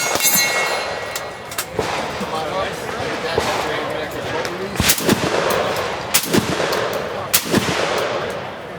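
Sharp gunshots crack out at a shooting range event, several spaced reports standing out above a steady background hiss, with people talking throughout.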